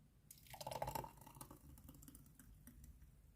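A thick green smoothie being poured into a glass, a soft close trickle with faint splashes that thins out into quiet drips.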